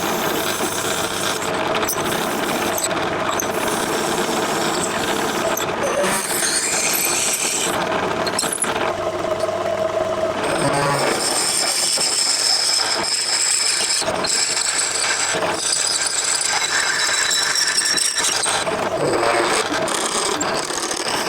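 A lathe drills out the cylinder liner for a Stuart 10v steam model, giving a loud, continuous grinding and ratcheting mechanical whir that holds steady throughout, with no talking.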